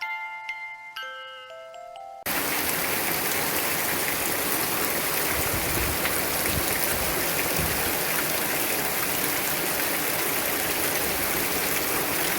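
Steady rain falls on a rainy morning, a dense, even hiss of drops that cuts in abruptly after a short tonal passage of music and then continues unbroken at close, moderate loudness.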